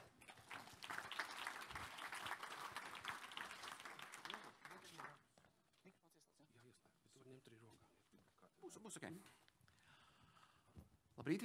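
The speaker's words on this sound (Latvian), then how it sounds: "Ar aplausiem!" A conference audience bursts into loud, dense applause that lasts about five seconds, then fades as a speaker begins talking.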